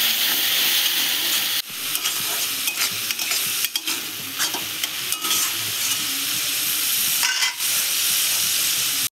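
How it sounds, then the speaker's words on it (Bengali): Steady loud sizzling of banana flower and potato curry frying in a pan, with occasional scraping strokes as it is stirred, no talking. "আমি ভালো করে কষিয়ে নেব।"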